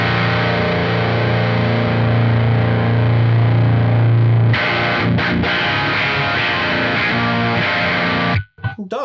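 Heavily distorted electric guitar played through a Victory Sheriff amp with the 800 pedal removed from in front of it: a loud, held, buzzing chord, then choppy, muted riffing that ends on a brief stop and a final stab.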